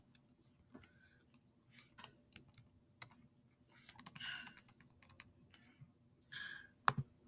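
Keys tapping on a computer keyboard in short, quiet bursts of clicks, faint and close, with a slightly louder clack near the end.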